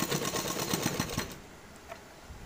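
A sewing machine stitches a kurti panel in a rapid, close burst of rhythmic needle clatter lasting over a second, then stops, leaving near quiet with a faint click.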